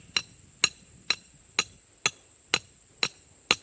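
A hammer strikes a tool while working a cherry and apple tree for yamadori, giving eight sharp metallic blows in a steady, evenly spaced rhythm, close and loud, with near silence between them.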